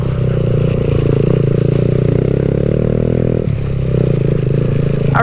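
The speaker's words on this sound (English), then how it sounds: "I really do need to put the baffle back in this thing. It is too loud for a 125cc little slow bike." Loud, close 125cc mini bike engine running with its exhaust baffle removed on a trail, a steady harsh buzzing drone with a brief dip in revs before it picks back up.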